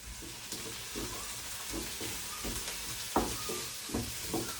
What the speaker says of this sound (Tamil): எல்லாத்தையும் போட்டு வதக்கி எடுக்க போகிறேன்.